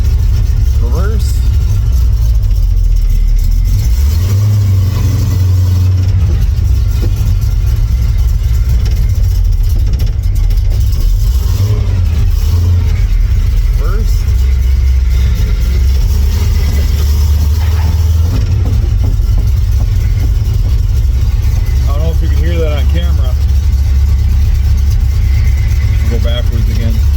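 A 1979 Camaro's supercharged small-block V8 gives a heavy, loping low rumble as it settles into a rough idle, with occasional louder surges and someone talking over it.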